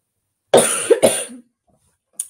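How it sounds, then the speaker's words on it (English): Two sharp coughs in quick succession, close to the microphone, followed by silence and a brief faint third sound at the end. "Apologies on the coughing here."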